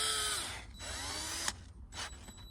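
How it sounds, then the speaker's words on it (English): A power drill whines up and spins in two close bursts, its pitch rising as it bites into the wooden subfloor of a 2005 Chevy Astro van, then briefly winds down. "Okay, I just finished drilling through the subfloor, so I have 2 holes in there."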